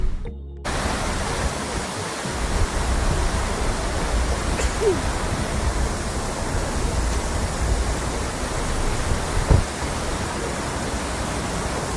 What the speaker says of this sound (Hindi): रोड आते ही आपका ब्यूटीफुल वाटरफॉल है